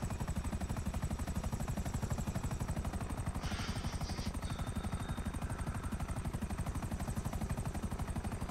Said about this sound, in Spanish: ¿Dónde pondré el helicóptero,